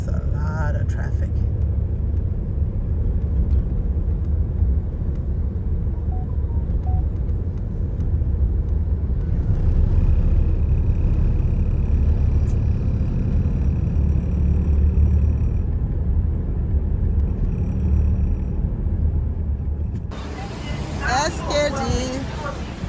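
Road traffic on a town street in Liberia, near a junction on the airport road, with a steady low rumble of passing cars and buses and faint voices and babble in the background throughout.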